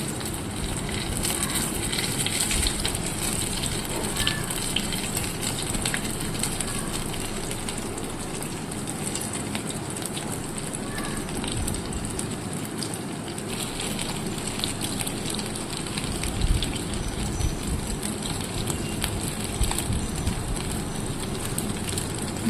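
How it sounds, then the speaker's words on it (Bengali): Katla fish chop balls deep fry in hot oil in a wok, a continuous dense sizzle and crackle holding steady throughout with no speech. "এবার কড়াইয়ে তেল গরম হলে পরে সেই যে বলগুলো বানিয়ে আনলাম সেই বলগুলো দিয়ে দিলাম"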